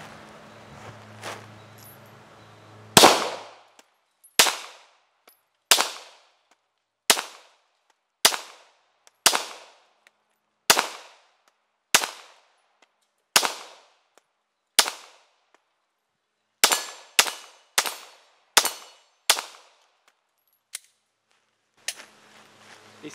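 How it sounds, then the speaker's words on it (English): A Glock 19 pistol fires .38 SWC bullets at a range, about sixteen sharp, loud shots spaced roughly a second apart, then a quicker cluster of shots near the end, each crack decaying quickly into silence. "Okay, now with the Glock 19."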